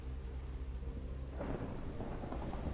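Thunder rolls in Minecraft during a rainstorm, a low rumble giving way to steady rain hiss, heard quietly with no voices.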